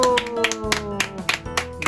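Group clapping at a Bible doctrine school camp, several sharp claps in an uneven rhythm over sustained music and voices, fairly close.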